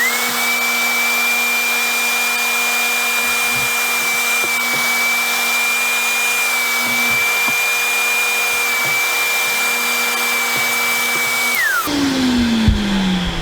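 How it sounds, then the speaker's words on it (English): A carpet shampooer vacuums boat carpet that has been treated with shaving cream, a loud steady high-pitched motor whine running continuously for about twelve seconds before it winds down and its pitch drops. "we're ready to actually vacuum it out with the carpet shampooer."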